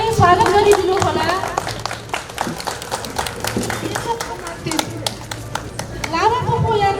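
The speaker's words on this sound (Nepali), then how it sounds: "कृपया तालीले स्वागत गरिदिनु होला" An audience claps to welcome a guest at a formal inauguration ceremony for a historic pond in Kirtipur, Nepal. The sharp, scattered hand claps run throughout under a speaker's amplified voice.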